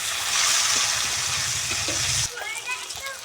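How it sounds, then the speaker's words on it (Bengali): Chopped tomato and green chillies fry in a pan with a dense, loud sizzle for about two seconds before it drops away. Light utensil clatter and a voice follow. "একটু ভেজে নেব টমেটো আর কাঁচা লঙ্কাটা।"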